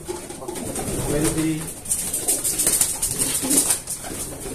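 Racing pigeons coo softly in repeated low, throaty calls amid steady background noise, with some rustling and a faint hiss throughout.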